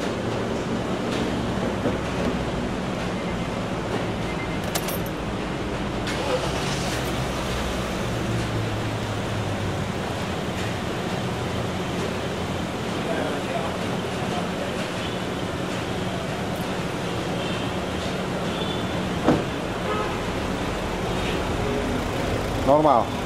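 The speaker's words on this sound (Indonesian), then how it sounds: "sekarang kita nyalain mesinnya" A Honda Brio's engine runs at a steady idle in a workshop during a starter and charging check, giving a continuous low hum with occasional clanks, while people talk nearby throughout.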